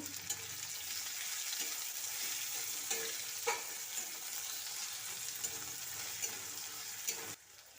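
Garlic paste, ginger paste and slit green chillies sizzling in a pan, a steady close frying hiss with scattered clinks and scrapes of stirring, ending abruptly near the close.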